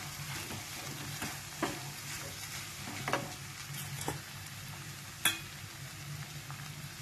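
Spices and ground coriander being stirred into food in a hot pan, a steady sizzle and frying crackle under scattered scraping stir strokes, a few louder clinks standing out, close and moderately quiet with no talk.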